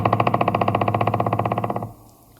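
A pileated woodpecker drums on a tree in a park, a rapid, even burst of about thirty deep, loud knocks that fades slightly and stops abruptly, followed by a faint echoing tail.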